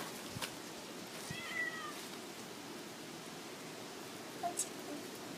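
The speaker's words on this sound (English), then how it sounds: "You looking at the cat?" A cat meows twice, small and faint, against steady outdoor wind noise; a brief squeak near the start.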